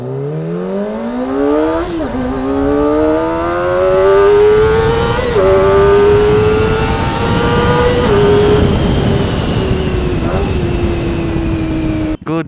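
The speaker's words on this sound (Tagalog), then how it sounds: "Ang ingay ng cold start na itong motor na to." A Kawasaki Ninja motorcycle engine cold-starts and idles loudly up close, its pitch rising and wavering with a few blips of the throttle, then cuts off abruptly at the end.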